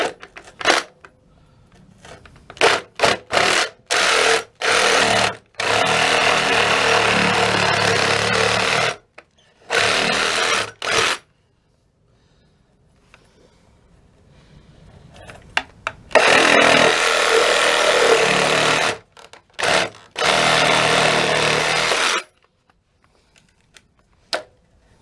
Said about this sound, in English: So we're going to use the Sawzall. To finish the job.